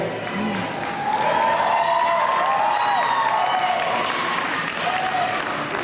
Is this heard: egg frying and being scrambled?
no